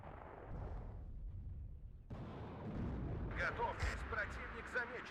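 Artillery fire in the war game Warno during a 5v5 airport battle: a low rumbling boom roll with a sharp burst partway through, followed by crackling impacts, with some speech-like sounds mixed in.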